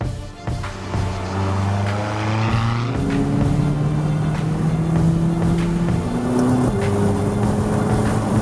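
A loud McLaren 570S Spider's 3.8-liter V8 engine revs and roars up through the gears, a deep throaty drone rising in pitch, close and continuous.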